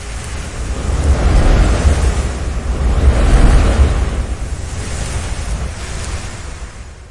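Wind sweeps through a village at night by a peepal tree in an animated horror tale, a steady broad rushing roar that swells and eases in slow gusts, loud and alone without voices.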